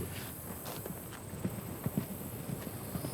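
Horse hooves clip-clop at a walking pace, a steady series of soft hollow clops over a hissy background.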